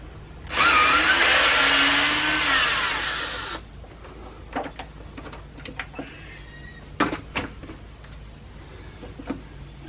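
A power driver with a 5/16 socket spins a screw out of a fuel tank in one loud, close whir lasting about three seconds. Scattered small clicks and handling knocks follow.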